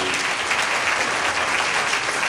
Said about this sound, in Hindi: जोरदार ताली बजा दो प्रभु के लिए।